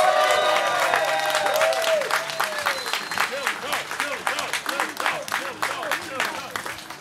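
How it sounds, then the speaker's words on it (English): Crowd applause for family members of the original owners at the unveiling of a civic art installation in Akron, starting full and thinning into scattered claps while a voice speaks over the opening. "How about a round of applause for those good folks?"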